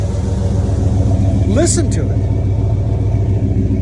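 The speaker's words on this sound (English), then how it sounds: "Just listen to this. Look at this truck." A truck's engine rumbles steadily at low pitch right nearby, continuous through the whole moment, while someone talks over it.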